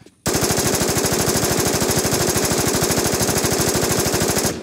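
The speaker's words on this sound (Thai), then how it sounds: "กูยิงบอสแล้วแซมกระสุนผมไม่พอว่ะกูต้องมาช่วยยิง" Rapid automatic gunfire from a weapon in the survival shooter game Infest, a loud, unbroken burst of evenly spaced shots fired at a boss.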